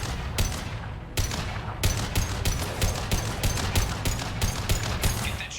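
Rapid gunfire from a firefight against enemies in the shooter game Mass Effect 2, a dense string of loud sharp shots in uneven bursts, close and continuous across the clip.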